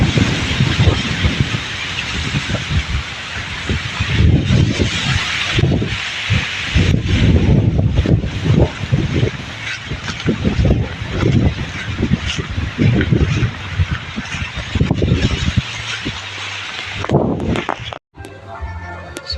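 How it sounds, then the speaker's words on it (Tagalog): Wind and noise from pipes roar in a loud, continuous broadband rush with irregular gusting bursts, close to the microphone, before cutting off abruptly near the end. "Ingay ng hangin, ingay ng mga tubo."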